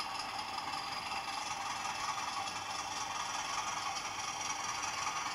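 A Bachmann class DS model locomotive runs on its sound card over set track, giving a continuous fine mechanical rattle and whirr, steady and close, with no talk.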